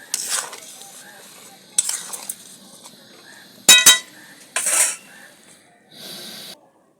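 Ghugni cooking with mutton fat just after garam masala powder goes in, a spoon scraping and stirring through the thick mixture in short separate bursts over a soft sizzle, with quiet gaps between strokes.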